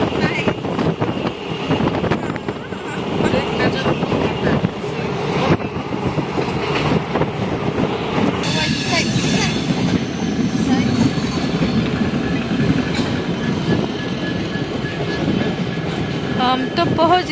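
Passenger train rolling along rails between Udaipur and Agartala in northeast India, with a loud, continuous rumble, rhythmic clatter and occasional squeal heard from inside a carriage. Voices are faintly audible in the background.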